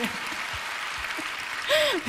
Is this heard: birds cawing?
no